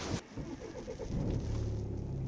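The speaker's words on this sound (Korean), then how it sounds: "너무 부드럽게 시동 잘 걸리고 있고요" Diesel Volvo S60 sedan fires up by push button, a short crank catching into a smooth, steady low idle close by, with no talking over it.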